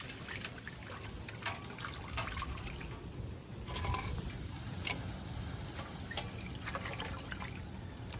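Rice and shrimp are rinsed by hand in a bowl of water, giving soft continuous sloshing with small drips and trickles close by and no voices.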